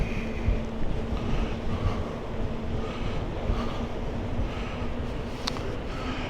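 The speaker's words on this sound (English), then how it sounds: "we're going into wind that's about 40 mile an hour, so hopefully you can hear me" Strong wind of about 40 mph buffets the microphone while riding an electric trike near Norman's Bay, a steady loud roar and rumble with no talking.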